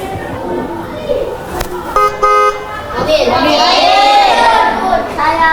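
A car horn honks in short bursts amid street noise, with children's voices and chatter around it; the toots are loud and close, followed by a longer blaring stretch.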